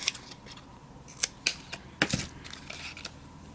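Scissors snip a piece of card stock for handmade card making, a few sharp close cuts spaced across a quiet room, with no talking.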